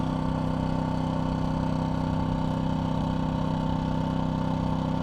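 A DuroMax XP2000is inverter generator runs at 50% load, heard from the exhaust side as a steady, even engine hum with no variation or voices.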